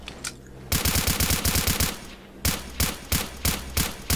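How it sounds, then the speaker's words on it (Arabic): Sniper rifle fire in the video game Stalker Clear Sky: loud, sharp shots in a fast, even volley, then a slower run of evenly spaced shots, with no talk. "اوه صوت قناص. المهم شوف سرعة اطلاق، سرعة اطلاق خارقة."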